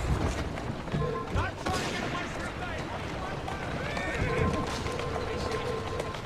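A horse in the Assassin's Creed Syndicate video game whinnies and its hooves clop along, moderately loud beneath a continuous game soundscape, with someone talking over it.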